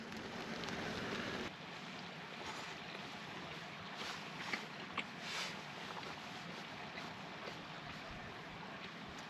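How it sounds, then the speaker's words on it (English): Soft, steady rain hisses in the background, faint and continuous, with a couple of small knocks and no speech. "The rain's here."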